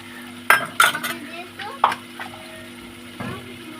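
Spices and yogurt for mutton curry being stir-fried in a pan, with a few sharp scraping and clinking stirs early on over a low steady sizzle that fades toward the end.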